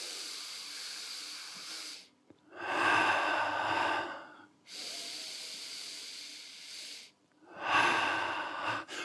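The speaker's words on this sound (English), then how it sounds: "so an imbalanced breathing rhythm, the 3, the 5 and the 7, actually bring balance to your body" Breathing exercise with an imbalanced rhythm: long, loud, breathy inhales and exhales close to the ear, separated by short silent pauses, repeating steadily without speech.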